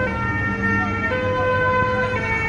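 Ambulance siren wailing steadily through a street in Nice after a truck attack, loud and continuous with traffic and crowd murmur beneath it.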